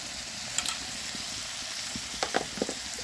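Onions and chili sizzle and fry in a pan, giving a steady close crackle with a few brief louder pops and stirring scrapes, and no voices.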